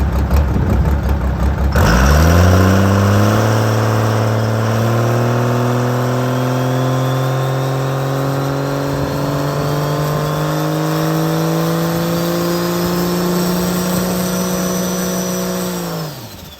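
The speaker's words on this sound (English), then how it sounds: "get the truck ready for a spool up, and see what it does" A diesel truck with a P pump fires up and holds a loud, steady revving drone as its big turbos spool, a rising whistle climbing on top of the engine for over ten seconds before it eases off.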